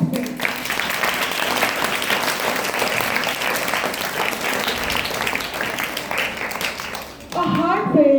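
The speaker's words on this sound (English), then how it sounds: "Let's give another big round of applause for all our participants." A school audience gives a big round of applause for participants of an inter-house class-wise English story narration competition, sustained dense clapping with children's voices mixed in, ending abruptly as a voice begins speaking near the close.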